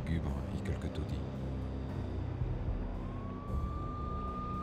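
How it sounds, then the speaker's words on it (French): Police sirens wail as they approach in the PS2 game Max Payne, a rising steady tone emerging late over a dense bed of game noise and background sound. "J'entendais le hurlement des sirènes se rapprocher."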